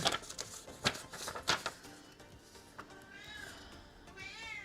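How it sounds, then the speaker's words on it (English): A cat meows twice, with rising, wavering cries near the end, after several light taps and clicks from small plastic model kit parts being handled nearby. "Is it my cat meowing at me?"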